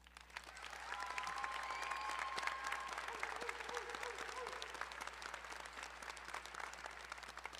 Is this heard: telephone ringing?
no